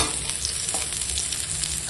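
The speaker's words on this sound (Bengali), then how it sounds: "এখানে আছে পেঁয়াজ কুচনো, কাঁচা লঙ্কা চেরা," Chopped onion and slit green chillies stir-fried with bitter gourd in a pan: a steady close sizzle of frying with scattered scraping stir strokes, no talk.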